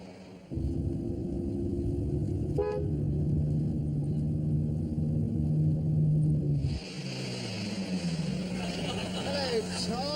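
A car pulls up with a low, steady engine rumble that cuts off, then light outdoor ambience follows; a brief horn toot sounds early on, and no voices are heard.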